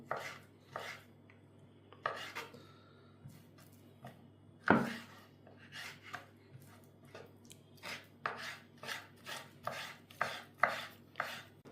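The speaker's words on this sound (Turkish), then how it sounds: "şimdi etimizi doğradık" Rapid knife chopping of meat into dice-sized cubes on a cutting board, steady rhythmic thuds with one louder knock midway, close and clear with no voices.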